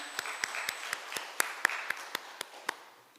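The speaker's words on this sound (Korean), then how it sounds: "우리 예배를 받으신 하나님께 영광의 박수를 돌려드립니다." A church congregation at a Sunday worship service claps in unison, about a dozen sharp, evenly spaced claps in a steady rhythm over a quiet room.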